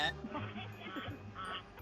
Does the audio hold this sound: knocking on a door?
no